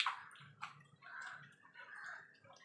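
Roasted eggplant, tomato and boiled garlic being mashed together by hand for a winter eggplant bharta, soft wet squelching and squishing in irregular bursts, close and quiet.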